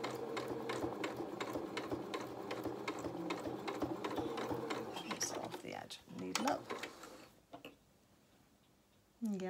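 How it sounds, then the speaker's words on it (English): A sewing machine top stitching a wool coat runs in a steady rapid stitch rhythm for about six seconds, then stops, leaving a few brief mechanical clicks and a quiet pause before it briefly restarts. "you put your presser foot back down again, and then you start sewing towards the"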